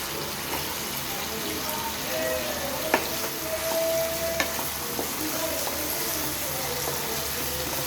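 White potatoes frying in a pan with a mustard seed tempering, a steady close sizzle and crackle throughout, with a few sharp pops and faint utensil clinks over a continuous hiss.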